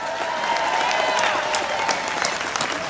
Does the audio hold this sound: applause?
yes